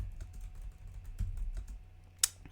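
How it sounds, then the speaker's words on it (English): Soft, rapid clicking from a computer keyboard as names are typed in, a steady patter of light keystrokes ending in one sharper key press near the end. "Just typing in names as I think of them."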